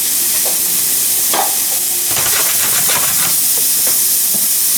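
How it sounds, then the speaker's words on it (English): Mushrooms stir frying in hot oil, a loud continuous sizzle with scattered crackles and scraping stirs close up. "I'm going to add in the mushrooms. And I'm just going to stir fry that until it's nice light brown."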